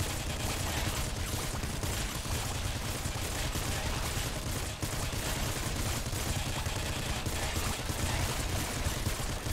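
Rapid, sustained gunfire from a player's weapon in the video game Nuclear Throne (Ultra Mod), fired at a very high rate. The shots run as a dense, continuous roar with game effects layered over them and hardly any gaps.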